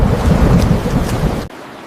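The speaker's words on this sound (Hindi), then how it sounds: "बारिश रुकने का नाम नहीं ले रही।" Heavy rain pours loudly and densely with a deep rumbling roll of thunder beneath it, the downpour cutting off abruptly near the end, leaving only faint background hiss.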